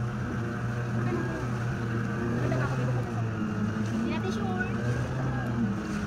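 A strained, laboring motorboat engine drones low and steady on a small island-hopping boat near Matabungkay, Lian, Batangas, with people talking over the engine noise.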